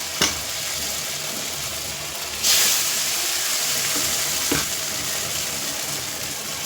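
Ground paste sizzles and fries steadily in a hot pan on a gas stove for a village-style Indian dish, a loud continuous crackle close up with a couple of brief bursts as it is stirred.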